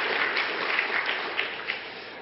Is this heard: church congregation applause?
yes